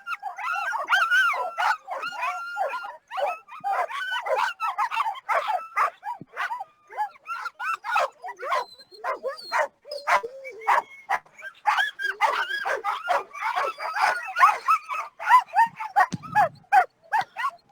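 Sled dogs at the start of a championship sled dog race in Fairbanks, a ten-dog team, yelp, bark and howl in a dense, continuous excited chorus, loud and close throughout with no talk over them.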